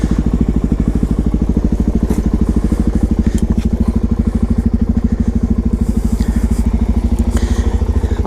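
Supermoto motorcycle idling with a loud, steady rapid thumping as it is backed down a set of stairs, close and continuous throughout with small clatters over the top.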